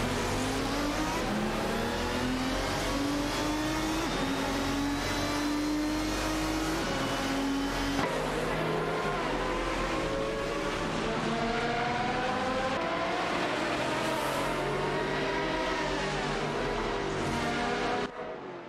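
Race cars in a video game race, engines droning and revving continuously with rising and falling pitch as several cars accelerate and shift gears together, loud and steady with no talking.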